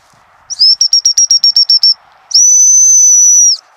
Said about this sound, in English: Again, introducing the stop whistle.